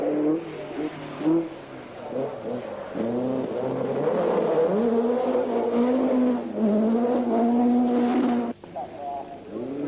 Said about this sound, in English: having misfiring problems with his Chevette caused by fuel starvation